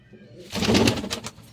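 A soft, brief pigeon coo with fluttery, breathy pulses, heard close by in a quiet space.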